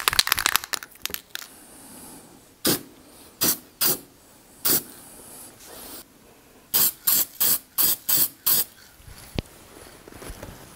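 Rattle-can primer sprayed onto a Honda S2000 fender in short hissing bursts, about ten separate sprays with pauses between, the last several coming quickly in a row, close and fairly loud.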